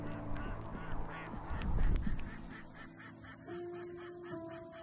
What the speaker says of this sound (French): les cris des canards appelants, attachés ou enfermés dans les cages, qui attirent les canards sauvages